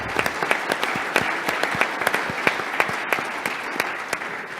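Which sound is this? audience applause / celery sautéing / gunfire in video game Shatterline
audience applause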